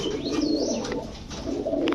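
Pigeons cooing in a shop selling Teddy, Racer and Pankhi breeds, with soft repeated coos and some chirps running steadily through, fairly close and moderately loud.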